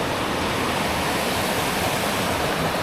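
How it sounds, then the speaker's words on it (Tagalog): Fast river water with a strong current near Puerto Princesa, Philippines, rushes steadily with a loud, unbroken roar, close by and alone. "May malakas yung agos."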